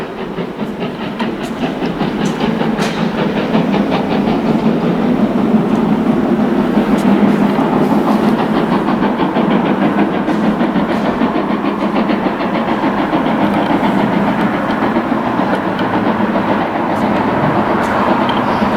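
A model railway train rumbles along steadily with a continuous clattering drone, moderately loud and close, running the whole time without pause.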